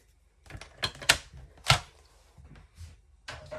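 A paper trimmer slices through stamped cardstock in a craft setting, producing a series of sharp, close clicking and snapping strokes in an irregular rhythm, with quieter gaps between them.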